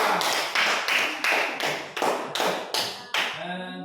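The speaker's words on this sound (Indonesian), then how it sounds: "kita kasih aplaus dulu untuk kelompok 2" A small classroom group claps for a student group's presentation, a few pairs of hands striking in a steady, close rhythm of about eight distinct claps before it stops.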